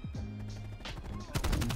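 Gunfire from a teammate in a first-person shooter, a burst of sharp close shots coming late after a stretch of game ambience, loud against the background.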